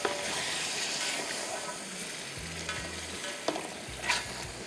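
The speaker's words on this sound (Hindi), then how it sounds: "और तेज़ आंच पे इसको हमने भुनना है" Potatoes for Bombay biryani fry on a high flame with a steady, close hiss and crackle of oil, and a few stirring scrapes are heard while someone talks quietly in the background.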